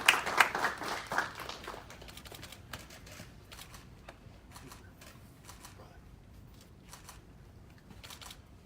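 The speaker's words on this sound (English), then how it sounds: "Let's give them a round of applause, please." Scattered applause at a gathering honoring police and fire chiefs, including the Naperville Fire Chief, starting with a few louder claps then thinning to sparse, fairly quiet clapping with murmuring voices.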